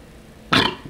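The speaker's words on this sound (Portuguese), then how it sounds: "Ah, eu arrotei." A single short burp, close and fairly loud, bursting out of near silence and fading quickly.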